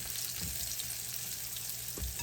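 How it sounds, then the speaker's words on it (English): Steady, fairly quiet hiss and crackle of buttermilk-and-flour-coated pork chops frying in oil, with a couple of soft low thumps from the pan. "They're going to be so pretty when they finish frying."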